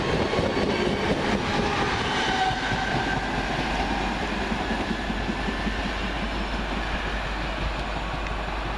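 London Midland Class 323 electric multiple unit at Longbridge station, a steady loud rumble of wheels and traction with rail clatter, continuous and close throughout with no talking.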